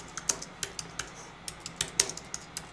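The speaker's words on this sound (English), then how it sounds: "Say something while I type." Quick bursts of clicky keystrokes on a computer keyboard, irregular and close, tapping in short runs over a quiet background.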